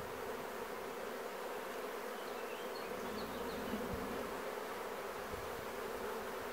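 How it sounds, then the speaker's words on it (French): Dense, steady buzzing of many honey bees swarming close by at an open hive, a continuous droning hum with no voices. "Vraiment des belles abeilles."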